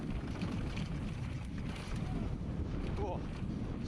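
Steady, heavy wind buffeting the microphone during a downhill skateboarding race in São Brás de Alportel, Portugal, a constant low rumble with gusty texture and no pauses.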